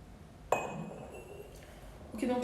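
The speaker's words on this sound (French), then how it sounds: "On va mettre un tout petit peu plus de jus d'orange" Orange juice is added to a glass while mixing a cocktail at home, opening with a bright glass clink followed by a soft, brief trickle of liquid and a second faint clink near the end.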